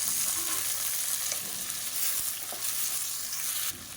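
Radish and tomato pieces sauté in hot oil, a loud, close and continuous frying hiss with light stirring, dropping slightly in level just before the end.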